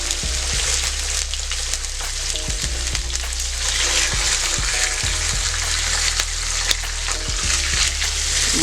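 Salmon fries in olive oil in a pan, a steady close sizzle with crackling and spitting throughout, broken by occasional clicks and scrapes, with no talk.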